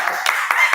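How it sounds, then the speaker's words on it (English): A few people clap for a guest entering a room during an indoor interview, with short, scattered claps alongside talking voices. "We're gonna clap for him to come in."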